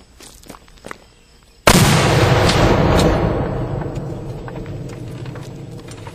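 A British 7-pounder gun fires a black powder charge behind a kirksite projectile: a single sudden heavy boom after a few quiet clicks, its rumble slowly decaying over several seconds outdoors, with no talk.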